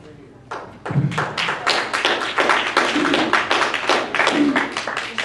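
An audience claps steadily through a public meeting in Provo on adopting science standards. Many hands beat in a fairly even, close, sustained rhythm that does not let up.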